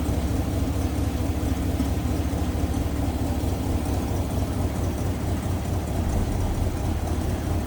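A 1953 Oldsmobile 98 convertible's original Rocket V8 idling, a steady, smooth low rumble that holds even and continuous throughout, heard close with no talking over it.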